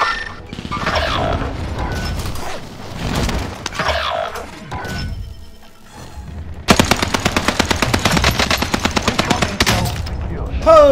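Gunfire in a Call of Duty game match, including shots from a distant hill: loud game explosions and shots, then a long rapid run of evenly spaced automatic rounds, with voices talking over parts of it.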